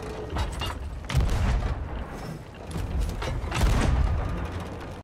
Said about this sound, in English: you just hear a loud thud and then the noise it makes when you kill a player, that means you just one-balled someone